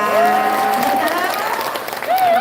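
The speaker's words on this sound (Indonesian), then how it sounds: "tepuk tangannya mana?" Lively crowd applause and cheering from the audience at a humorous Sundanese religious sermon, sustained and dense throughout, with a voice drifting over the clapping.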